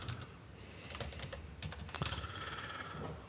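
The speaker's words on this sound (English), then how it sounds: "I'm typing it in right now" Rapid computer keyboard typing runs steadily throughout, with a continuous patter of key clicks and a slightly louder burst near the middle, heard alone without any voices.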